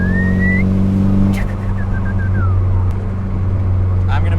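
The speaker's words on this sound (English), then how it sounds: "I could literally play with the turbo on this car all day long." A turbocharged Nissan 240SX engine runs loud and close with a steady, deep drone that swells and eases slightly, while a turbo whistle flutters briefly over it.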